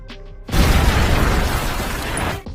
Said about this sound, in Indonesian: lalu John pun meledakkan tempat itu.